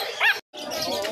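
A dog at a Malabon pet market gives a single short bark-like yelp near the start, then a brief gap and a busy mix of market noise and voices.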